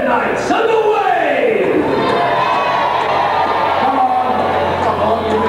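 Jousting-show crowd cheering for the Red Knights, a loud continuous mass of shouts and whoops filling the space, with voices rising above the roar throughout.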